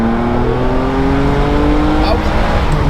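Engine of a Novitec-tuned Ferrari 456 revving hard and pulling long under acceleration, a steady rising drone that stays loud and close throughout, with faint voices and road noise beneath it.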